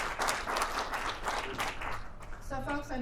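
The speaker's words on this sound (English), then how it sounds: "give Stephanie a round of applause" Audience applause at a policy webinar on long-term care facility access, full clapping from a group that thins toward the end as a voice begins talking.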